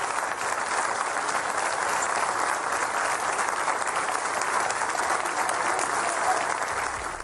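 A large assembly at the United Nations applauds Gustavo Petro's speech, dense sustained clapping filling the hall evenly for several seconds before tapering slightly at the end.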